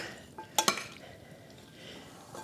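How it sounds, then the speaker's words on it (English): A spoon stirs lima beans with shrimp sauce and garden parsley in a bowl, giving soft scraping and a few sharp clinks against the dish in quick pairs, close and fairly quiet. "So I'm now just going to stir this up"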